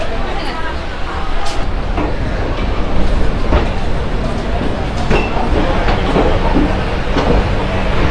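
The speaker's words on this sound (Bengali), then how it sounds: "ঠিক 2টো বাজার সাথে সাথেই ছেড়ে দিল আমাদের এই নতুন আজকের ট্রেন, কলকাতা থেকে দীঘা স্পেশাল।" A Kolkata to Digha special train departs, its carriages rattling with a loud, continuous clickety-clack and rumbling from inside the coach, while passengers chatter in the background.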